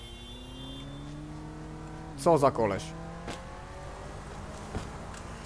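A car in the video game Sleeping Dogs drives off with a steady engine drone and rising tones, while someone talks briefly over it partway through.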